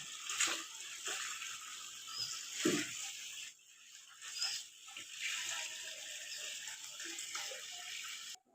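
Water runs steadily from a tap into a container for watering plants, with a continuous splashing hiss and a few brief louder gurgles and knocks, fairly close.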